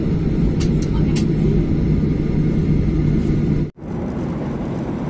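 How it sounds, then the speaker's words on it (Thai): Airplane engines roar steadily as a plane takes off from an airport in Malaysia, a loud continuous rumble heard from inside the aircraft that dips briefly near the end before resuming. "ตอนนี้เครื่องบินกับกำลังบินออกจากสนามบิน"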